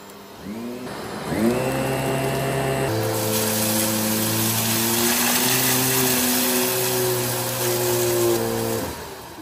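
A Kenmore 600 Series canister vacuum cleaner in carpet mode with the brush roll on whirs up and runs loud and steady, pitch stepping up as the brush engages, then winds down at the end; no talking.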